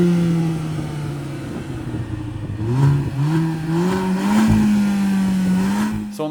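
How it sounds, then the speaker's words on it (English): A 2021 Kia Forte 5 GT engine revs up and down through a throaty exhaust, steady and loud, with pitch rising and falling across several seconds. "I'm going to let you hear the exhaust."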